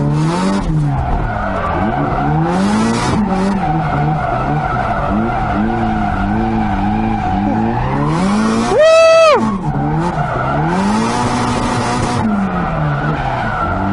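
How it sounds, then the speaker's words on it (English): A Nissan 240SX drift car engine screams at high revs with tires squealing, briefly bouncing hard off the rev limiter in a stuttering burst before dropping back. "Sorry, Adam, I didn't mean to hit rev limiter for that long."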